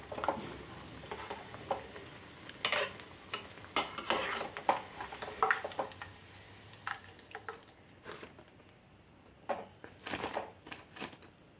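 Onion vadas fry in hot oil while a slotted spoon scoops them out, giving bursts of bubbling sizzle and scraping clinks against the pan, followed by quieter pauses.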